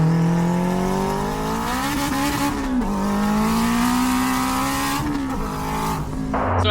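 An AWD turbocharged Honda RSX with a K20 engine revs hard in first gear, the engine note climbing and wavering loudly while the tires spin and squeal, close by and without talk.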